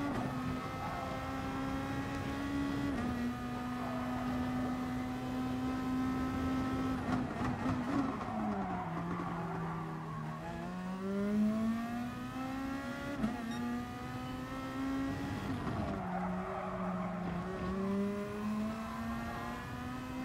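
Race cars in the video game Gran Turismo Sport, a continuous engine drone with shifting pitch as the car accelerates and changes gear, steady and fairly faint with no talk.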